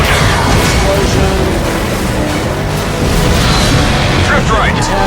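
An explosion in the Stuntman Ignition video game, heavy booming blasts and rumble over continuous racing engine and crash noise, loud and sustained throughout.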